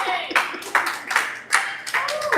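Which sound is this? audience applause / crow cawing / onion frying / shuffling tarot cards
audience applause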